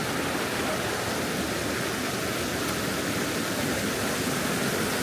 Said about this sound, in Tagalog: sobrang lakas ng agos